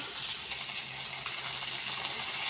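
Panch phoron spice mix sizzling steadily in hot oil in a pan on a gas stove, a continuous close crackling hiss with no voices.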